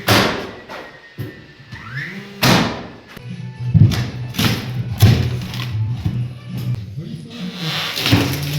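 Wooden battens are hammered into an old chipboard floor during insulation work, giving a series of loud, close, irregular thuds with pauses between them, while people talk intermittently.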